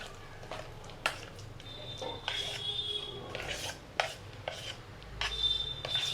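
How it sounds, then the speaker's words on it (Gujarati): Soaked urad dal batter for medu vada is beaten by hand in a large vessel, giving irregular wet slaps and knocks against the pot, fairly quiet and close, with a few faint clinks. "હવે આપણે આને ફેટવાનું છે."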